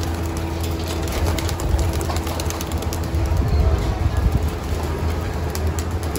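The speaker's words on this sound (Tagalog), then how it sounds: "Yan na, papakawala na kami mga kalapatids." Pigeons released from a loft and taking flight outdoors, with a steady broadband rush and some wing flutter under a constant low hum and light background noise.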